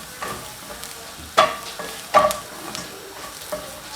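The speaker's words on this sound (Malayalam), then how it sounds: "3 ടേബിൾ സ്പൂൺ മുളക് പൊടി, ഒരു 1/4 ടീസ്പൂൺ ഉലുവ പൊടിച്ചത്. ഉലുവ വറുത്ത് പൊടിച്ച ഉലുവയാണ് ചേർത്തിരിക്കുന്നത്. ഇത്രയും ചേർത്ത് നമുക്ക് ഇളക്കാം." Chili powder and roasted fenugreek powder are stirred in a pan for a king fish curry, with several distinct spoon scrapes and clinks over a faint sizzle, close and without speech.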